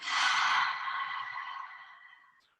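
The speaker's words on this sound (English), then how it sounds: "And exhale out the mouth." A single long breath pushed out through the mouth during a slow-flow meditation, a soft airy rush that starts strong and fades gradually over a couple of seconds, close and alone with no talk.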